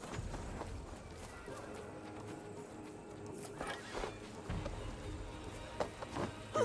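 An injured horse in Assassin's Creed Valhalla whinnies and shifts its hooves, with scattered thuds and a brief neigh-like burst over steady game ambience, moderately loud throughout.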